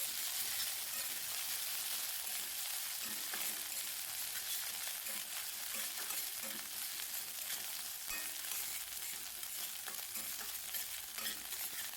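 Nigella seeds frying with onions in hot oil in a pan, a steady close sizzle with faint stirring scrapes running throughout, no voices.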